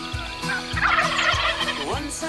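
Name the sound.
Rio Grande wild turkeys gobbling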